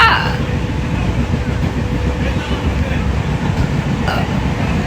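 Inside a moving train, a steady low rumble of wheels and carriage noise fills the space continuously, with faint occasional clatter.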